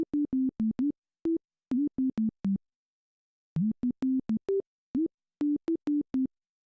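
Logic ES2 sine-wave synth playing a melody of short, clipped notes with pitch bends sliding into some of them, pure tones in phrases separated by pauses, heard alone.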